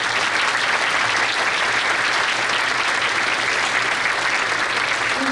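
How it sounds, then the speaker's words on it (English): A school winter concert audience for a fourth grade chorus gives its two principals a round of applause, dense continuous clapping from a large crowd, loud and steady throughout. "Please give a round of applause to our two principals."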